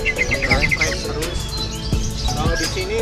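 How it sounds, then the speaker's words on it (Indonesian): A green leafbird (cucak ijo) sings quick chirping phrases, close and loud over a busy background with other bird calls. "Setelah itu burung moncer terus di jam."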